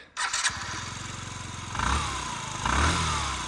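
A Yamaha Jog SA57 fuel-injected scooter from Japan starts abruptly and settles into a smooth, close idle, then gets two short throttle blips that swell the engine note.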